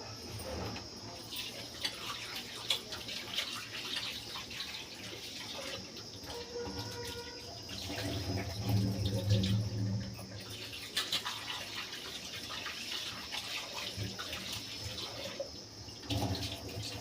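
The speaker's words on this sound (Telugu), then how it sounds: "అంటే ఇక చికెను కడిగేసుకుందాం" Tap water runs steadily as raw chicken is rinsed in a home kitchen, a continuous hiss of flow with soft splashing that swells louder around the middle before settling back, with no talking.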